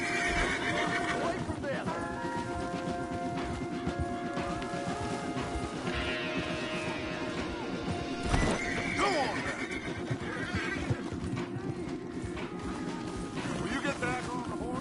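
Horses in a video game, Red Dead Redemption 2, whinny and snort while hooves clop steadily, and someone speaks briefly over the animals.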